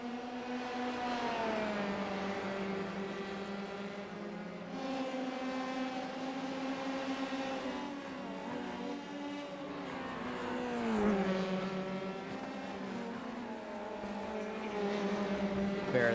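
F3 race cars in a sim racing game at Suzuka drone continuously in a close, loud engine whine. The pitch drops under braking, then climbs again as the cars accelerate and shift gears, with faint commentary in the background.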